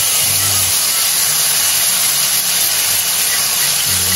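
Ground spice paste for sambal setan hits a hot pan to stir-fry fern, producing a loud, continuous steam-like hiss and sizzle close up, with no voices.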